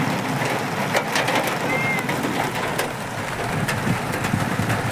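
Heavy unseasonal rain falling outdoors at Retare Khurd, a dense steady patter and hiss on surfaces with birds and a pigeon cooing faintly behind it.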